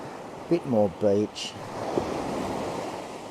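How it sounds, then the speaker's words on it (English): Ocean waves roll in on a beach at Dundowran Beach, a steady low wash of surf with wind noise, while a person speaks briefly near the start. "I'm going to try some with the waves coming in, some with the waves going out."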